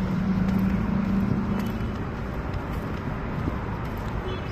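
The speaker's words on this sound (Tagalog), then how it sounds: "Ang traffic na, umpisa na ng traffic." Road traffic heard from a vehicle in the Philippines, a continuous rumbling engine and road noise with wind buffeting, a low hum fading after the first two seconds, and no clear talking.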